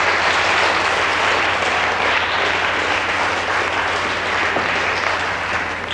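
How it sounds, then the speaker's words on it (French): A French television game-show studio audience applauds for a contestant, a dense, even wash of clapping held at full strength for several seconds before easing slightly at the end. "On vous applaudit quand même,"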